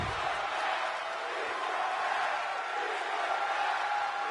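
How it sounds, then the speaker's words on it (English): A virtual arena crowd in the WWE 2K22 wrestling video game keeps up a steady, faint roar of cheering in the background, with no voices heard clearly. "The crowd wants more if you listen to them"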